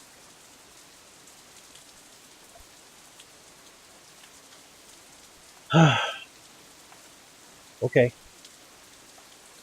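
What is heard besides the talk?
rain falling, from the video game Katawa Shoujo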